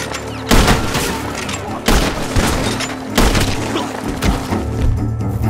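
Gunshots ring out from a barn in Red Dead Redemption 2, a series of loud, booming reports with splintering impacts, each followed by a brief rumbling tail, roughly one every second or so.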